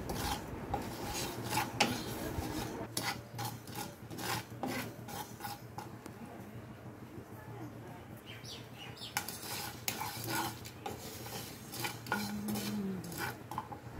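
Fennel, dry red chillies and black mustard seeds dry-roasting in a pan, heard as rhythmic rasping scrapes of a spatula against the metal with light rattling of seeds, fairly quiet and close.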